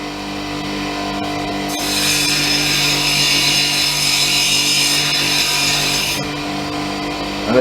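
A steady abrasive grinding whine of stone pressed against a spinning 240-grit lapidary wheel, loud and continuous for several seconds before cutting off.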